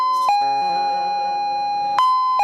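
Bright, ringing bell tones at a Chhattisgarhi Ramayan satsang, with two sharp struck rings and a long sustained shimmering decay between them.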